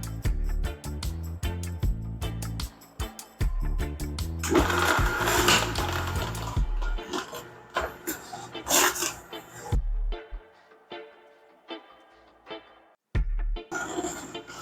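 Hurom H320N slow juicer grinding a whole seeded watermelon, a steady mechanical churn with rhythmic whirring pulses, a burst of wet crunching and rasping in the middle, then pauses and a brief restart.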